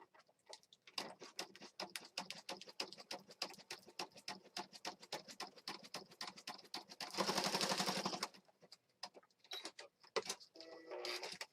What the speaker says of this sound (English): I'm just going to stitch right across the top here